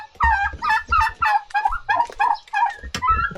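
Chicken in Batad, Ifugao clucking and squawking in a close, loud run of rapid calls, with short pauses between bursts.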